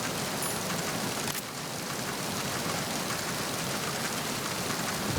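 Rain falls steadily in Metal Gear Solid 2: Sons of Liberty on the PS2, a dense, even hiss that holds without a break from start to finish and carries no voices.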